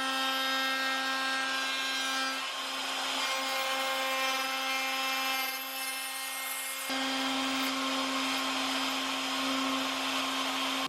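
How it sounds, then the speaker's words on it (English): A wood router cuts a shelf slot in a shop-built workshop ladder, set first to a 1/4-inch depth and then a full 1/2 inch. It gives a steady, loud whine with one brief dip in the middle of the cut. "Now I need to see about using the router to cut that out between there"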